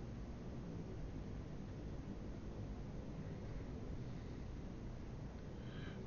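Spaceship engine noise in the game Empyrion Galactic Survival, a dense steady low rumble and hiss that drones on without break.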